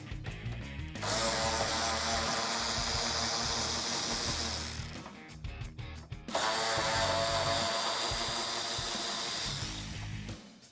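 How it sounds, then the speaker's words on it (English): A 10mm socket on a ratchet backs out bolts at the top of a Mustang GT bumper, with two long, loud runs of rapid clicking separated by a brief pause and a few knocks. "I can take a 10mm socket on my ratchet and remove the 2 10mm bolts at the top of the bumper."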